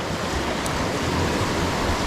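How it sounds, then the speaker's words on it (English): Creek water flows steadily beneath sticks, log jams and roots in crayfish habitat, a constant close rushing wash with no speech. "The water flows all under there."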